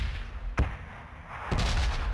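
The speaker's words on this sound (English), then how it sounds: "where are these bombs being dropped from?" Two heavy, booming explosions from bombs dropping in PUBG, each a sharp blast with a rumbling tail, the second followed by sustained low roar, heard alone without voices.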